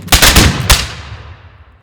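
A Sons of the American Revolution honor guard fires a musket volley: two sharp, loud reports close together, with a rolling echo that fades over the next second. No voices are heard.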